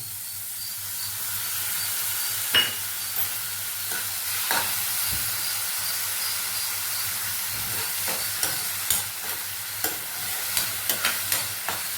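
Ground tomato paste goes into a frying mushroom curry, producing a continuous soft sizzle with occasional spatters and irregular scraping of a spoon against the pan, close and moderately loud with no talking.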